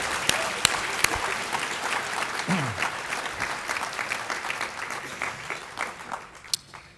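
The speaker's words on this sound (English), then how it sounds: "Let's give them another round of applause" A conference audience applauds panelists after a discussion, a steady wash of clapping from a room full of people that thins and fades toward the end.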